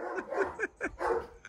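A dog gives a quick run of four or five sharp, close barks and yips in a little over a second, loud and with no talk over them.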